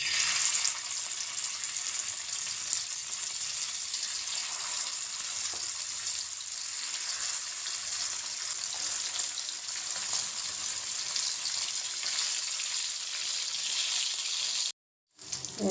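Sardines (chalai fish) sizzle in hot oil on a dosa griddle, a steady close crackling hiss that fills the whole stretch with no voices, cutting out briefly near the end.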